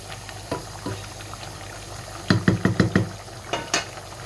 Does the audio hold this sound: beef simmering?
yes